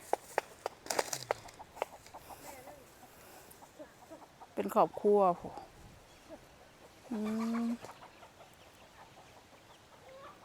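Chickens cluck and squawk in short bursts nearby, with a couple of louder drawn-out calls, while a person talks quietly in the background.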